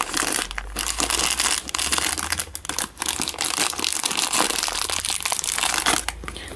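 Packaged decorative bows being unwrapped, a steady close crinkling and crushing of plastic wrapping that runs nonstop with dense scratchy bursts and no talk.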